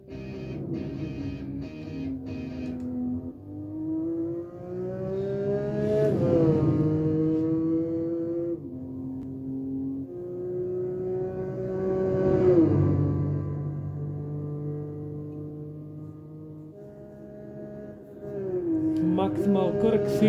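Engine of a 1960 Nissan Skyline sport coupe with a turbo, driven in the game Gran Turismo 4, revving up and down in repeated sweeping rises with shifts, steady and loud throughout.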